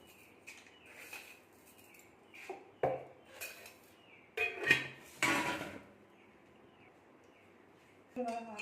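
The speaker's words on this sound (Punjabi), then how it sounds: "ਇਹਦੇ ਵਿੱਚ ਖੰਡ ਪਾਉਣੀ ਇਹਦੇ ਵਿੱਚ ਤਿੰਨ ਚਾਰ ਚਮਚੇ" Spoonfuls of sugar tipped into a jug of watermelon juice, heard as a few separate clinks and scrapes of a spoon against the jug, close and fairly quiet, with a voice talking between them.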